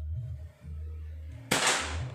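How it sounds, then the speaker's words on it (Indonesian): A PCP air rifle fires a Hercules pellet at a target in one sharp, loud crack partway through, over a low steady hum. "Ini kita uji coba beberapa kali tembakan yaitu target nembak lubang peluru."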